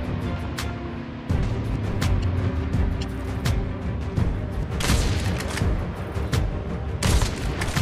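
Gunfire in a Call of Duty match rings out as repeated sharp shots over a steady rumble of in-game noise, with several louder bursts close by and no voices.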